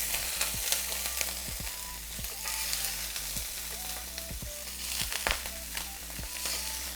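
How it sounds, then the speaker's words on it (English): Shrimp sizzle steadily in hot oil in a pan, a constant crackling hiss broken by scattered pops and utensil clicks. "And I'm gonna add my shrimp"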